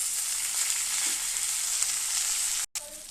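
Mint frying in a pan with a little tamarind, giving a steady, bright, close sizzle that continues evenly and breaks off for a moment near the end, with no talking.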